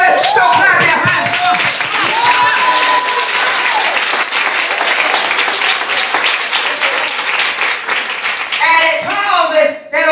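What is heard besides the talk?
congregation clapping hands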